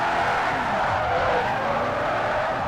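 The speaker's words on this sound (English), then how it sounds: "Tire noises, screeching, engine just growling, screaming, whatever you want to call it." Sustained tire screech from a car drifting in Forza Horizon 4, loud and continuous with an engine roar underneath, steady throughout without pauses and with no voices.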